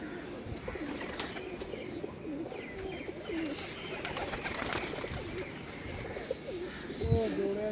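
Pigeons coo on a rooftop in soft, low, repeated calls against a steady outdoor background, with a faint voice in the distance.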